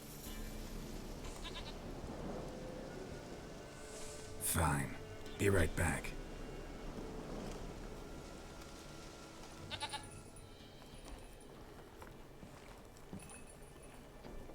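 A goat bleats in Witcher 3, two short loud cries in the middle, followed by a fainter call, over a quiet ambient background, with brief speech nearby.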